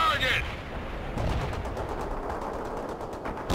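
Rapid bursts of automatic gunfire and explosive reports in the Cold War strategy game World in Conflict, a dense, continuous battle din of rattling machine guns with a sharp crack at the start, no clear speech over it.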